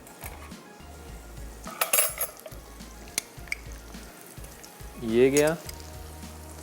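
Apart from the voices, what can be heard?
garlic ginger paste frying in a pan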